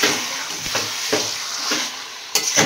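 Mutton being stir-fried in a pan, with steady loud sizzling broken by several scraping stirs of the spatula, close up.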